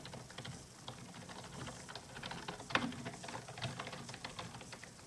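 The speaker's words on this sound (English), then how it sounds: "I'm gonna start typing like just random keys." Random keys typed on a Logitech G510s gaming keyboard, a close, steady run of quick, irregular clicks and clacks with one sharper knock partway through and no talk.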